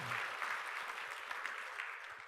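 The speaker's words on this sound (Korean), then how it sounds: "박수로 하나님께 영광 올립니다." A church congregation claps to give glory to God during a Sunday sermon, a continuous wash of applause at moderate distance that slowly fades toward the end.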